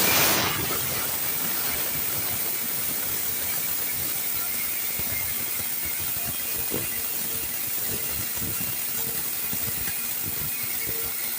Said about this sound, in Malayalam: നമുക്കിത് ജാറിലേക്കിട്ട് പൊടിച്ചെടുക്കാം.